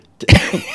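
A man lets out a short, sharp cough, one close, loud burst with a brief rough tail, on its own without talk.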